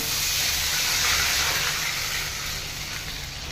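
Water coming to a rolling boil in a cooking pot for a Bengali hilsa and eggplant curry, tempered with nigella seeds and green chillies; a steady close bubbling hiss with no talk.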